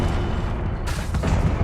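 A Confringo explosive spell blast in the Hogwarts Legacy video game, a dense, loud burst with heavy low rumble that swells sharply midway and keeps booming to the end.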